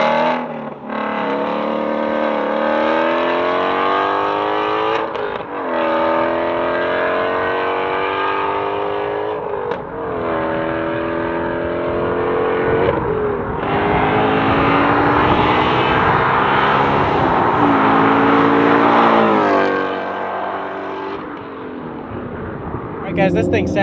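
A Shelby GT350 with a Borla ATAK exhaust pulls hard on the highway, its loud engine note rising through the gears with short breaks at each shift, recorded from inside the car, with talking in places.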